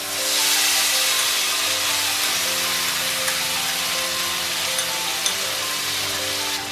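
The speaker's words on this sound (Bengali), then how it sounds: "এবার এর মধ্যে আমরা আদা, কাঁচা লঙ্কা, রসুন এবং পেঁয়াজ যেটা বেটে রেখেছিলাম, পেস্টটা বানিয়ে রেখেছিলাম, সেটা দিয়ে দিচ্ছি।" A paste of ginger, green chilli, garlic and onion fries in hot oil with a loud, hissing, steady sizzle, close and continuous, with a few faint utensil ticks and no voices.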